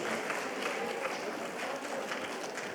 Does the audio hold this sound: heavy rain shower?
no